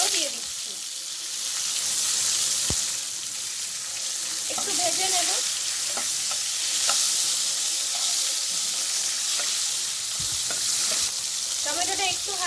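Steady sizzling of chopped tomato frying in hot oil after tempering spices, with occasional stirring scrapes and a faint voice in the background.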